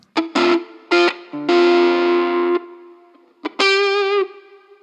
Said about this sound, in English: In the end of the chain I got this nice reverb plugin